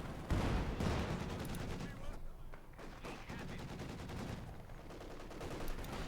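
Rapid bursts of gunfire and booming artillery shells pound a position during a Company of Heroes 2 battle, dense and continuous with overlapping blasts, a commentator's voice running underneath.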